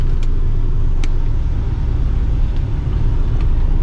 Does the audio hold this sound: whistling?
no